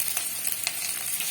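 Kashmiri chilli hisses and sizzles in hot oil in a pan, a steady bright crackle with a few sharper pops, heard alone.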